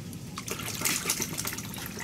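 Cold water is poured and splashes into hot water for a foot bath inside a Mobiba MB-10 tent with a canopy during the first frost; a steady close trickle and gush runs for about two seconds.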